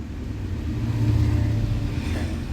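A car pulling away slowly from a stop during a driving lesson, its engine giving a low, steady rumble that swells slightly with gentle throttle, no voices present.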